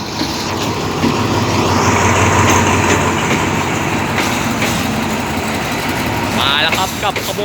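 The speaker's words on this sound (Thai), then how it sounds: "ขบวนรถสินค้า ตู้คอนเทนเนอร์" A container freight train rolling into Bang Sue Junction railway station in Bangkok on an evening, its heavy engine rumble and droning hum steady and loud, with rail squeals and clatter near the end.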